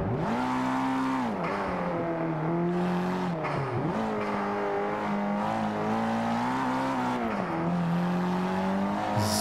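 Several race cars' engines roar loudly in Forza Motorsport 5 on a street circuit through Prague, rising and falling in pitch as the cars overtake one another, with steady engine drone throughout.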